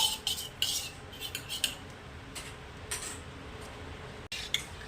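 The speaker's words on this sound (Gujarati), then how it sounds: "કઢી પકોડા બનાવવા માટે આપણે આ 1 વાટકી દહીં લીધું છે, જેને આપણે સરસ મજાનું મિક્સ કરી દઈશું." A spoon clinks and taps against a bowl while one bowl of curd (yogurt) is mixed for kadhi pakoda. The strikes come in quick, light, uneven bursts and stay fairly faint.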